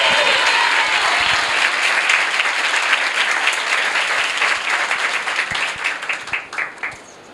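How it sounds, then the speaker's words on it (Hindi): A church congregation breaks into loud, sustained applause that fills the room, then gradually thins into scattered individual claps near the end. "और फिर एक जोरदार ताली मेरे प्रभु के लिए बजाएंगे।"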